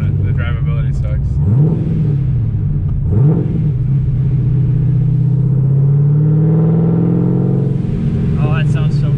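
A 1000 whp Corvette with a big cam and supercharger idles loud and close, rising in two sharp revs before settling into a lumpy, choppy rumble, with people talking over it.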